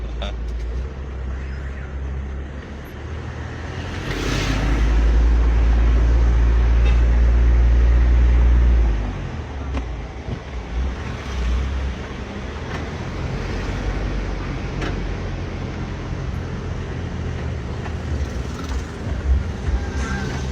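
A car engine runs steadily as the vehicle is driven in second gear, with a loud low rumble swelling midway and easing off again, while people talk over it throughout.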